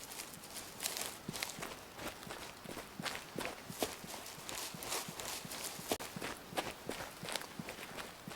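Goats run in the Way of the Hunter video game, their hooves a quick, irregular patter of many close footfalls. The hoofbeats go on steadily with no voices.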